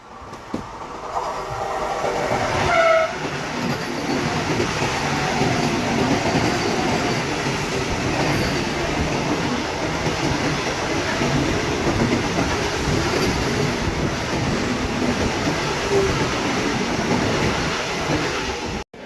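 A Vande Bharat train overtakes the halted Krishna Express, a loud, steady rumble of rolling wheels and carriages that holds for nearly twenty seconds with no voices.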